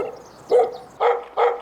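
A village dog barks warily at a visitor: three short, sharp barks spaced unevenly, close by and fairly loud, with quiet gaps between them and no talking.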